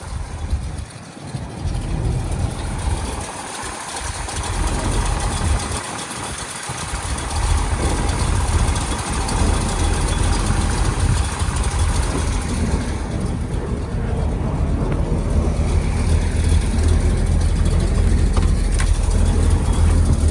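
A 1969 Chevrolet Corvette convertible with a numbers-matching 350 hp V8 and four-speed idles steadily, giving a loud, continuous low rumble that holds for the full stretch without talk.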